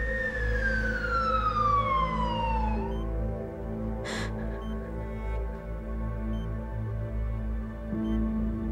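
An ambulance siren gives a falling wail over a low engine rumble, then drops away and leaves a steady motor drone.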